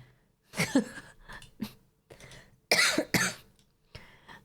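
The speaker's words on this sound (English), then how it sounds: "I still have the cough." Several harsh coughs come in uneven bursts, a few short ones then two strong hacking coughs close together, near and fairly loud.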